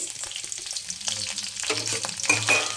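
Dried red chillies, garlic cloves and curry leaves fry in hot oil for a rice dish, giving a steady close sizzle with bursts of crackle and stirring scrapes growing louder toward the end, no voices.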